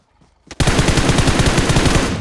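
Sustained automatic gunfire in the mobile battle royale game PUBG Mobile, a loud, rapid, evenly spaced burst of shots that starts abruptly after a brief quiet lead-in and continues without a break.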